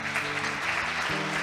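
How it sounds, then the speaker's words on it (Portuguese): A church congregation at a Methodist worship service breaks into applause, a brief burst of clapping over sustained organ or keyboard tones, moderately loud and close. "Uma salva de palmas, Senhor."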